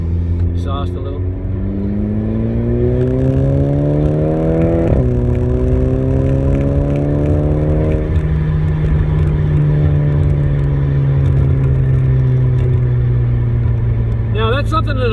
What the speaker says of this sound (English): I just want you to hear the exhaust a little.